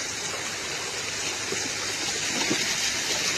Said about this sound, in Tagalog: Ang lakas ng flow ng tubig dito